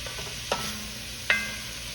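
Onions stir and cook in a pot, with a steady soft sizzle throughout and two distinct scrapes of a spoon against the bottom, the second louder, close by with no talking.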